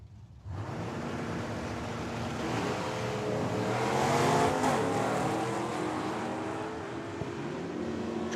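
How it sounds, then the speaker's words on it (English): At a Tucson dragstrip, drag racing cars launch down the quarter mile, one a wagon with a manual gearbox, a loud sustained engine roar swelling and fading with pitch changes from shifting, with wind noise throughout. "Check out the wagon on the right-hand side because he's going to be rowing the gears as he goes down the quarter mile."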